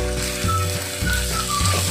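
Sliced onions and bitter gourd fry in a pan while being stirred, a continuous close sizzle over a low steady hum, with no talking.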